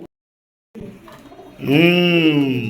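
A near pigeon from a paired male and female gives one loud, drawn-out cooing call that rises after a brief hush and some scuffling, and holds until the end.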